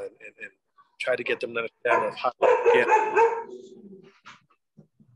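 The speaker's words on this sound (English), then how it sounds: "Sorry about my dog barking there." A dog barks and yips in a short run of loud, close barks that cut across a man's speech, with quieter whimpering sounds near the end.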